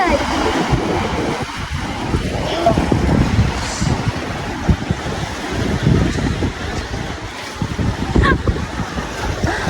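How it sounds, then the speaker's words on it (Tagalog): Heavy ocean surf crashing and washing in close by, mixed with gusty wind buffeting the microphone. "Lakas ng alon guys."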